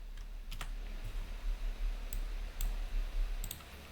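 Computer keyboard typing during HTML coding work, with irregular clusters of light key clicks over a steady low hum, close and moderately quiet, with no talking.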